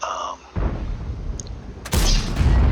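A 122mm tank cannon firing from the Object 777 II heavy tank in a video game: a sharp close boom after a brief quiet gap, followed by a second heavier blast with a rumbling tail.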